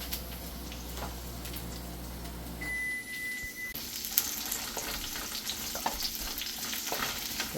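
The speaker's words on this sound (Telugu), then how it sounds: "ఆనియన్స్ ఇవన్నీ బాగా వేగాలండి" Onions frying in a pan for kids' multi-colour noodles give a steady, close sizzle. Faint clinks of stirring come through, and a low hum runs underneath for the first few seconds. Nobody speaks.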